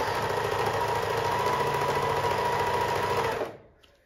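A Pfaff 1525 sewing machine runs fast with a steady, dense mechanical whir and rapid stitching rattle, loud and close, then stops abruptly near the end, leaving near silence.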